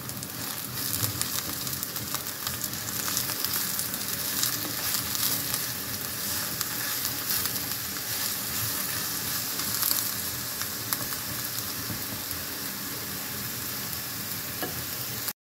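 Eggplant fries in a pan with a dense, continuous sizzle and crackle, loud and close, and occasional stirring scrapes over the steady hiss, with no talk.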